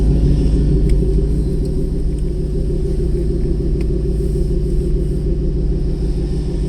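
A 2018 Ford Mustang GT V8 with free-flowing Borla S-Type exhaust cruising, giving a loud, steady, deep rumble that holds constant throughout with no talk over it.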